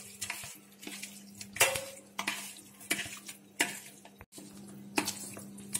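Butter chicken marinade being stirred in a bowl, with repeated clinks and scrapes of a utensil against the dish and soft wet mixing sounds, close and alone.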